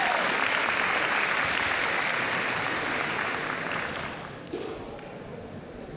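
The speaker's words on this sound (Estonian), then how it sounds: "Aplaus, aplaus!" An audience applauds in a hall during a contest at a ball, with even, full clapping for about four seconds that then thins and dies away.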